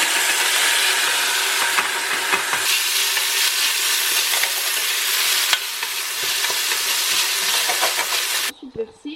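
Rice fries in hot oil in a pan for a pilaf and is stirred, giving a loud, steady close sizzle with scraping stir strokes through it, cutting off near the end.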